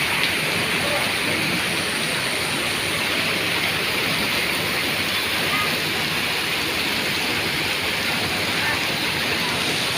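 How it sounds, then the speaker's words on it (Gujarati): Torrential rain pours over waterlogged streets in Surat, a loud, unbroken roar of falling water that stays close and steady throughout. "સુરતમાં ધોધમાર વરસાદ."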